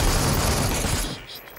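A dense burst of rapid gunfire in the battle royale game Super People, loud and close for about a second before cutting off.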